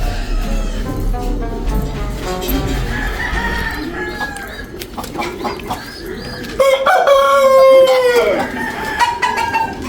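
Chickens cluck and a rooster crows loudly in a coop where hens are laying, with overlapping calls close by and rising toward the end.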